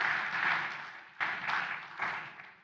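Conference audience applause in a hall, moderate steady clapping that swells in a few waves and fades over a couple of seconds.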